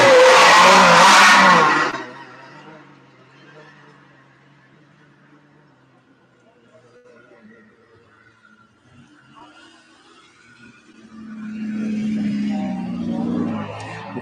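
A Can-Am car roars past at speed, loud and close at first before quickly fading away, then another engine swells nearer toward the end after a quiet stretch.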